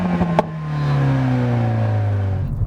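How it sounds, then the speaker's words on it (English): A 2014 Mercedes-Benz CLA 45 AMG's four-cylinder engine revs up through its exhaust, a loud, rising growl with a sharp crack at the start, held strong before easing off. "for a 4-cylinder, this makes some pretty cool noises out of the exhaust pipe."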